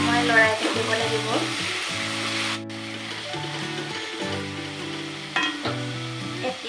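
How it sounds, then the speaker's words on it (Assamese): Tomato paste sizzles and fries in a pan while being stirred for chole paneer, a steady close crackle with scraping stir sounds over it, no talking. "এইদৰে অলপমান সময় লৰাই থাকিব লাগিব।"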